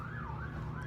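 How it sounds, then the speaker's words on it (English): Emergency vehicle sirens pass by, a steady, wavering wail that stays loud and continuous throughout, with no one talking. "As more sirens pass by"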